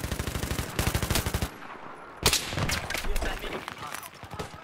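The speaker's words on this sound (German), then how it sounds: "Ey, von wo werde ich denn hier beschossen?" Rapid automatic gunfire in Battlefield 3 rattles in dense bursts, breaks off, then a loud nearby shot sets off more sustained firing.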